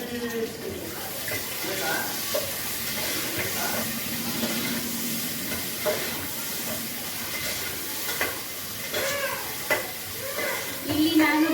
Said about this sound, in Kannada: ಹಾಕಿ ಈರುಳ್ಳಿ, ಟೊಮೆಟೊ ಪ್ರತಿಯೊಂದನ್ನು ಫುಲ್ ಮಿಕ್ಸ್ ಮಾಡಿ ಫ್ರೈ ಮಾಡಬೇಕು